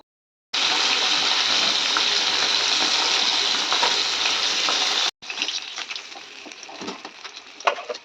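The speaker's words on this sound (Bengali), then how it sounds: "তো মাছগুলো ভেজে নিলাম" Fish frying in a pan for a Bengali fish curry, a loud continuous hiss and crackle of hot oil that cuts off abruptly, then resumes as softer, uneven sizzling with occasional sharper pops.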